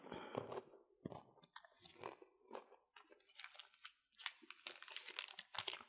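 Crunchy chocolate-coated Cremo Choco Crush mixed berry ice cream being eaten up close, with repeated crisp bites, crackling and crinkling wrapper sounds in uneven bursts, quiet and intimate.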